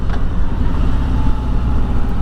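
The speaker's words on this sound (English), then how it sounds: "It has that typical clunky Harley transmission. You gotta clunk it into gear." A Harley-Davidson Road Glide's V-twin engine rumbles loud and close at a steady low idle-like churn, with no distinct gear clunk standing out.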